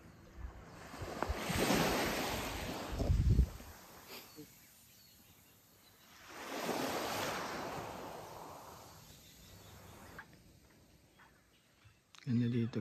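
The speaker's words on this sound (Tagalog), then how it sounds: "Grabe, ang payapan ng dagat" Calm sea swells roll gently toward a tree-lined shore in two slow, broad washes, with wind buffeting the microphone and a few soft thumps. No words are picked out, though a low voice murmurs at times.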